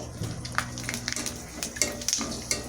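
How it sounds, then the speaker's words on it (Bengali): Phool pitha flower rice cakes deep-frying in oil, a close crackling sizzle with scattered pops and light utensil clicks, brief and without speech. "ডুবো তেলে ভাজলে পিঠাগুলো আরও সুন্দর হয়"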